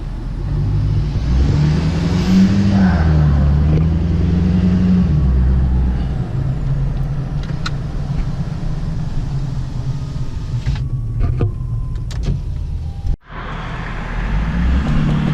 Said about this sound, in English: That's supposed to be a 1300 horsepower truck.